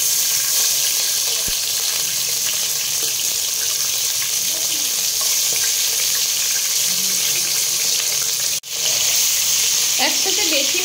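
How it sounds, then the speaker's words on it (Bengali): Large pieces of fish fry in hot oil, a loud, dense, constant sizzle that keeps going throughout, broken only by a brief dip near the end, with a few clinks behind it. "ফ্রেন্ডস, তেল গরম হয়ে গেছে, এবার একটা একটা করে মাছ আমি ছেড়ে দেবো।"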